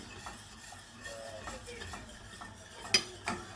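A whisk stirring lasagne sauce in a pan over the heat, giving soft continuous scraping with a few sharper clinks against the metal near the end, close and fairly quiet.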